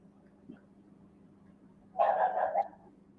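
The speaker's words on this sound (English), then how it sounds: "what are you barking at now, man?" A single short dog bark, moderately distant, stands out against a quiet background with faint low hum.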